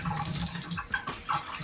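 Tap water runs and splashes over a sirloin steak being rinsed in a kitchen sink, a steady close gurgling flow with uneven spatters throughout.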